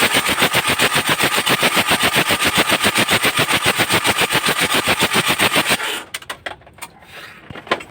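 A Mitsubishi L300 with a 4D56 diesel engine suffering blowby cranks loudly with fast, even rhythmic pulses for about six seconds, then the sound drops abruptly to quieter, irregular knocks and clatter.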